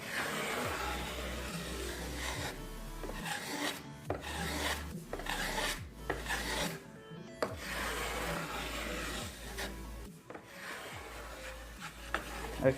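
A hand plane takes very thin shavings off sapelli wood on a guitar top or back, with repeated rasping strokes and short pauses between passes, close and alone.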